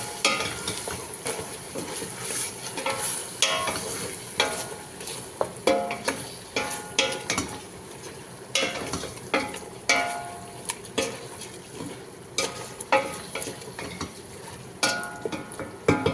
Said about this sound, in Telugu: ఇప్పుడు తిప్పుకున్నాం. దీన్ని కొంచెం మగ్గనిద్దాం